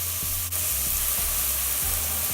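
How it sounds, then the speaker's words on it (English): Leeks and onion frying in a soup pot, a loud, continuous close sizzle with a few soft stirring knocks and no speech. "My leeks and onion, they're cooking away."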